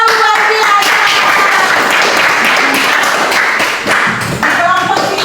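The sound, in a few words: class applause, clapping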